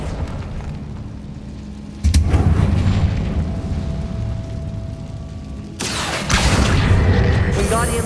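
Explosive spells cast in Hogwarts Legacy, with two heavy booming blasts, the first at a couple of seconds in and the second near the end, each followed by a sustained rumbling roar, loud and close.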